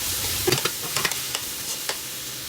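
Tomatoes hitting a hot oiled pan with onions for Filipino pakbet, then stirred: a few sharp clatters of a utensil against the pan over a steady low sizzle, close and moderately loud.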